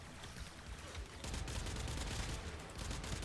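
Rapid bursts of Vastilock pistol fire in Warframe crackle densely and loudly at close range, the shots blurring into a continuous volley that grows stronger after the first second.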